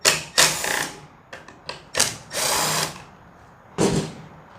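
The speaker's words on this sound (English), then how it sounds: "It's held on by two T27 Torx screws. And you just use a T27 Torx bit." A power driver with a T27 Torx bit backs out two screws from the air filter cover of a Stihl KM131R KombiEngine, giving several short, loud whirring bursts separated by pauses, close up with no talking.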